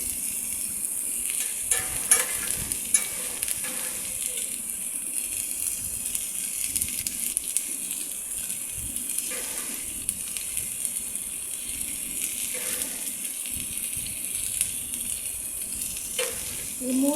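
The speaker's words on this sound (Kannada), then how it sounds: "ಟೊಮೆಟೊ ಸಿಪ್ಪೆ ಹೋಗೋ ತನಕ ಫ್ರೈ ಮಾಡಬೇಕು" Tomatoes and garlic fry in a pan with a continuous dense sizzle throughout, close and steady, with intermittent stirring sounds and no talking.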